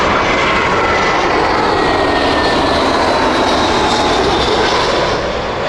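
Engines of an Airbus jet airliner at Heathrow give a loud, close, continuous roar with a bright high whine running steadily throughout.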